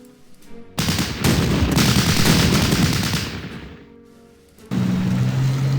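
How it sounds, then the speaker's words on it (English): Gunfire from tanks and an engineer squad in the Battle Academy video game: a loud, sustained burst of rapid machine-gun fire that tapers off, then a second burst kicks in, with no talking. "I know that's a little risky, but we're going to open fire"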